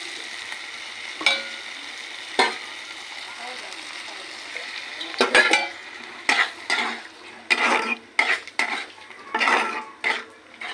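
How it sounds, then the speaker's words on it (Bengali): Ridge gourd, potato and onion frying in a pan with mustard seed tempering, a steady soft sizzle broken by repeated sharp scrapes and clinks of a spatula stirring against the metal pan. "ঝিঙে আলু আর পেঁয়াজ বেশি করে দিয়েছি ভাজা হয়ে গেছে"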